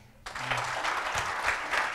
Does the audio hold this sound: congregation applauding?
yes